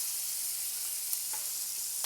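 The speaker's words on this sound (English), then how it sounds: "Get that sizzle going." Bacon fries in a pan for a breakfast burger, giving a loud, continuous close-up sizzle with a bright hiss and only a couple of faint clicks, and no talk over it.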